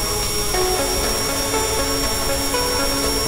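Surgical drill in the game Surgeon Simulator 2013, a loud continuous mechanical whirring with shifting tonal whine, steady and close throughout without speech.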